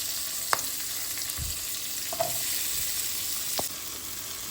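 Cashews frying in oil in a pan, a steady soft sizzle with a few faint stirring clicks, no voices.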